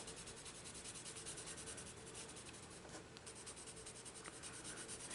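Colored pencils (Neos and Polys) blending pink over yellow on paper: a faint, steady, continuous scratchy rubbing with fine gritty texture, soft and close, with no voices.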